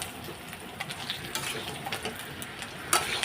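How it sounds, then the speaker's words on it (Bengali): Potatoes sautéing in a pan while being stirred, with a soft sizzle and scattered light scrapes and taps of a utensil against the pan. "এই যে আলুগুলো দিয়ে এখন কষিয়ে নেব"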